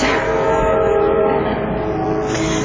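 A passing train in the evening during a yoga class: a steady, loud rumble and rolling clatter with a faint whistle tone, continuous throughout.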